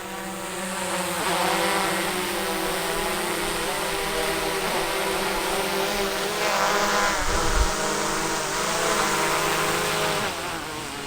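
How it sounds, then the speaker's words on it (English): A DJI Mavic 2 Pro drone hovers close by with a steady, high, whining buzz of propellers, its pitch shifting slightly as it lowers to land on a hand, with a brief thump near the end. "So I will bring back the drone, position it above the eye height"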